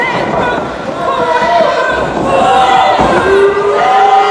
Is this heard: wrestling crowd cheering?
yes